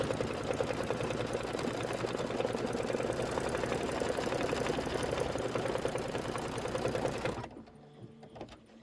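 Embroidery machine stitching a snowflake design, a dense, steady mechanical chatter that runs unbroken for about seven seconds, then stops abruptly, leaving a quiet tail with a few faint knocks.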